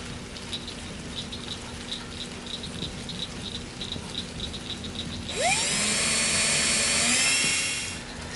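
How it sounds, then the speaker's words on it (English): High whining drill with a metal bit boring into a golf ball; faint regular ticking gives way to a sudden loud rising whir as the bit spins up and bites, holding for a few seconds before winding down. "I'm going to go ahead and drill all 10 of my golf balls."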